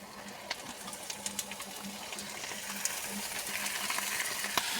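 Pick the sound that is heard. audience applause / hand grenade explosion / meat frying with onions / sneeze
meat frying with onions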